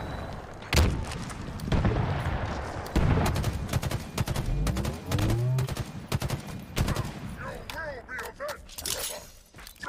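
Bursts of gunfire in Halo on a battlefield, sharp repeated shots with booms and a whooshing projectile, loud and close throughout under intermittent game noise.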